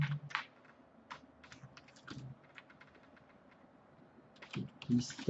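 Bursts of typing on a computer keyboard while a label is entered in crime-scene diagram software, scattered quick key clicks with pauses between them, fairly faint and close.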